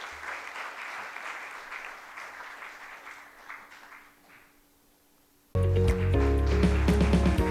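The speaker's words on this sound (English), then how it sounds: "A huge round of applause for Mr. B.V. Jagadeesh for this wonderful session." Audience at a TiE Mysuru founder-series event applauding a speaker: steady crowd clapping that slowly thins and fades, then cut off abruptly by loud music.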